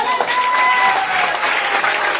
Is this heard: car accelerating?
no